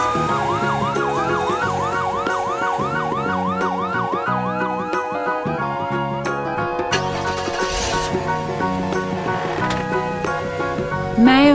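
An ambulance siren gives a rapid, repeating up-and-down yelp, then shifts to a steadier tone, loud and close over layered music and street effects.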